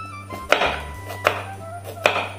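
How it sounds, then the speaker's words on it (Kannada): A knife chops through jackfruit seeds on a cutting board, three evenly spaced firm thunks close up over a low steady hum. "ಇವಾಗ ಇಲ್ಲಿ ನಾವು ಹಲಸಿನ ಬೀಜವನ್ನು ಕಟ್ ಮಾಡಿಕೊಳ್ಳುವ"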